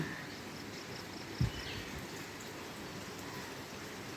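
Steady rain falls on the tin roof of rooftop rooms, a soft continuous patter with one brief louder knock partway through, no voices.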